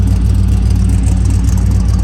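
A 1964 Chevrolet Impala on hydraulics, no longer running open headers, idles with a loud, steady, deep exhaust rumble and a low droning hum throughout, no voices.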